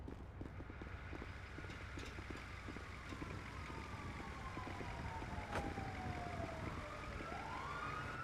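Wailing ambulance siren in the video game GTA V, steady over a busy street soundscape with clattering hooves and traffic, the tone sweeping down and rising again toward the end.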